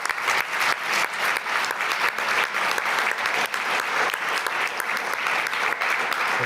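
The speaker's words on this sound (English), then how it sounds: "I'd ask you to join me in a round of applause for our panelists." An audience at a stakeholders' day event gives the panelists a round of applause, dense, close clapping that stays loud and steady throughout.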